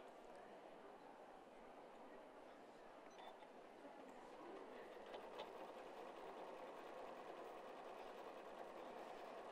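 A sewing machine stitches an appliqué with shimmering mirage thread, a steady fast mechanical whirr that holds constant at close range and fairly quiet throughout.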